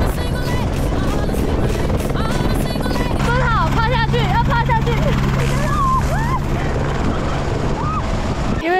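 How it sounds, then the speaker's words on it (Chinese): A helicopter arrives on New Zealand's Tasman Glacier, its rotor wash and heavy wind gusts blasting the microphone throughout while people talk loudly over the din nearby. "第二辆直升机要来，然后我们必须要蹲在这里，"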